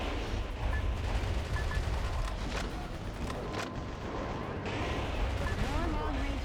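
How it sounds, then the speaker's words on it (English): Long-range missile attacks in the video game Metal Wolf Chaos: a continuous loud rumble of explosions and artillery-like blasts with a few sharper impacts, and no break in the roar. "More long-range missiles. These attacks will rage on unless you wipe out the launch source."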